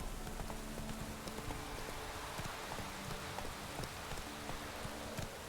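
Roach the horse trots along in The Witcher 3, steady clip-clop hoofbeats under a constant wash of rain-like ambience.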